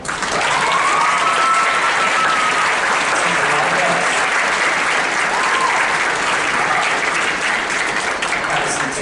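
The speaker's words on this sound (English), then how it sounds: "will you please stand so we can clap for that?" Steady, loud applause from the audience at a high school intermediate band Christmas concert, sustained and even for several seconds with no break.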